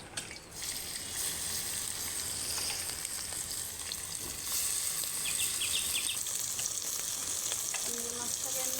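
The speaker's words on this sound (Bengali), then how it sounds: "আমি কড়াইতে তেল দিচ্ছি। মাছটা দিয়ে দেবো, ভেজে নেব, অল্প করে ভেজে নেব।" Fish frying in oil in a wok over a clay stove, giving a loud, steady, close sizzle and crackle that swells slightly partway through, with no talking.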